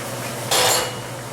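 Beans for a poblano chili tipped all at once into a cooking pot, a short bright rattling rush lasting a moment, loud and close, with a faint ring of the metal pot.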